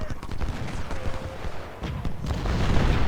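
Musket volleys crackle in an Ultimate General: Civil War battle, with dense, overlapping shots and low booms that keep going, louder toward the end, while a voice talks over the gunfire.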